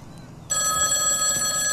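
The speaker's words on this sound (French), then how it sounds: "Un téléphone, capitaine." A telephone starts ringing abruptly after a short quiet moment, its bright electronic bell tone continuing loud and steady to the end.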